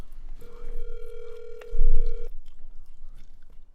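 A telephone ringback tone on an outgoing call sounds as one long steady ring, clear and fairly loud, followed by a soft thump and quiet room noise.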